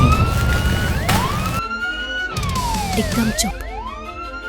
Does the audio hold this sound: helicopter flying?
no